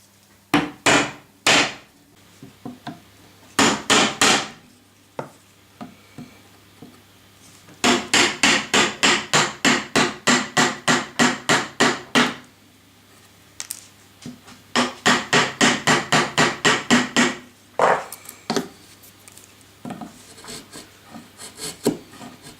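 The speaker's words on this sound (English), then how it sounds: "you chisel all along here with the flat edge with against the it" A hammer drives a flat chisel along a wooden edge during patio renovation work, sounding as bursts of rapid, evenly spaced sharp knocks, with short pauses between the runs of strikes.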